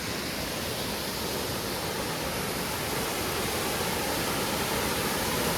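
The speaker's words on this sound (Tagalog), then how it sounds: "Ito na yung Upper Falls ng Troll Falls." Upper Falls of Troll Falls in a forest, a steady broad rush of falling water, constant and fairly close with no breaks and no voices.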